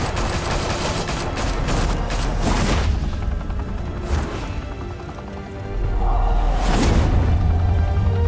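Sustained gunfire fills a shootout in Batman The Telltale Series on PS5, with dense rapid bursts and booming impacts that swell louder near the end, no talking over it.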